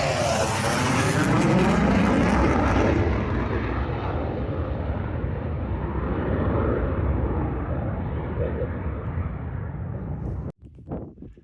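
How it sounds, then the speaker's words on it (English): An F-35 Lightning jet roars past in a low flyby near Hardknott Roman Fort, a loud, sustained broadband rush that slowly fades over about ten seconds before cutting off, with wind buffeting the microphone. "F35 jet's doing a flyby again."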